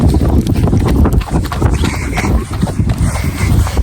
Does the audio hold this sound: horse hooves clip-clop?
yes